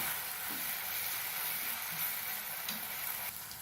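Spice and garlic paste sautéing in oil for masala idli, a steady close sizzle and hiss running throughout with faint stirring clicks, no voices.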